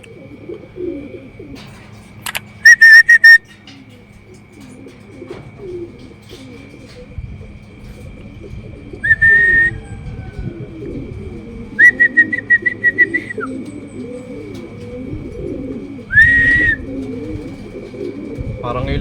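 Racing pigeons at a loft during a training toss, with soft low coos and cooing calls off and on, short bursts of shrill whistling or chirping, and a constant high electronic tone running through it all.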